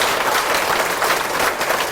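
An audience at a temple lecture gives the speaker a big round of applause, a steady, dense wash of many hands clapping that fills the whole stretch with no talking.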